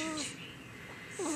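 A young girl makes two short, close snoring sounds, a raspy snort at the start and another at the end, with quiet breathing between.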